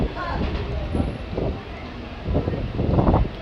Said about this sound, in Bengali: এখানে ঠান্ডা হাওয়া বইছে প্রচণ্ড, আপনারা হয়তো মাইকে হাওয়ার আওয়াজটা শুনতে পাবেন।